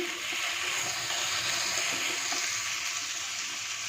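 Chopped vegetables for masala vegetable semiya, a vermicelli dish, sizzle steadily in a hot pan while being stirred, giving an even, continuous hiss without pause.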